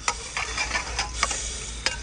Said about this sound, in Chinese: 起锅烧油